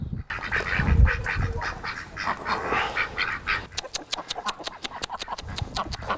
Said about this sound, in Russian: утка будем кормить